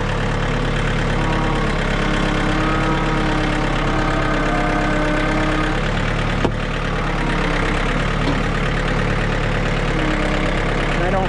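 Tractor engine idling steadily nearby, a constant loud low rumble with a faint knocking texture that barely changes throughout, with no talk over it.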